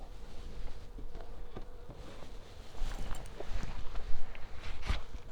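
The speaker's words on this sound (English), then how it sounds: "And all the bees are working over here in this section right here." Honey bees buzz around an open backyard hive during a frame inspection, a steady close insect drone with scattered louder passes near the listener and faint handling knocks underneath.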